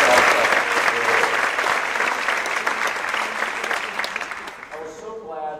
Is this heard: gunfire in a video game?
no